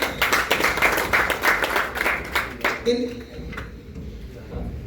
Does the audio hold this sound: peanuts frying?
no